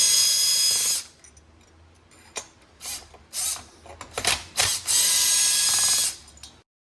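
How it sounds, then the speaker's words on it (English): Bolts come off the cylinder of a Husqvarna 562XP Mark II chainsaw under a power tool, with a long buzzing run at the start, then short choppy bursts and another sustained run, close and loud. "Remove all four bolts to take off the cylinder."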